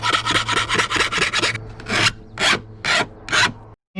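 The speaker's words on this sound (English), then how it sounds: "Does everyone hate cutting sheet metal as much as I do? Especially stainless, especially relatively thick stainless?" Cutting relatively thick stainless steel sheet in a boatyard workshop, heard as a rhythmic run of harsh rasping strokes, fast at first and then slower with short gaps, loud and close with no talking.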